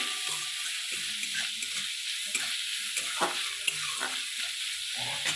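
Onions sprinkled with salt frying in a pan make a continuous bright sizzle, punctuated by irregular scraping stirs and soft clicks, close and fairly loud with no talk.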